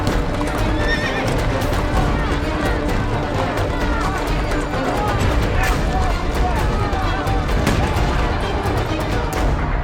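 Mounted police horses in a dense, continuous crowd scene, with clattering hooves, repeated whinnies and neighs, and shouting voices and tumult layered throughout at constant loudness.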